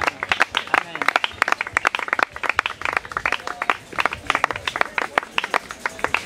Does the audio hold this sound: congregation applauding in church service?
yes